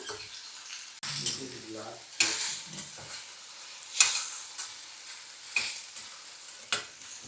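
Okra cooks with curd in a pan, a soft sizzle broken by repeated scraping stirs at a steady pace, close by with no talking.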